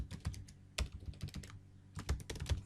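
Close, crisp keystrokes on a computer keyboard while writing code comments, coming in quick irregular bursts with brief pauses between, alone without talk.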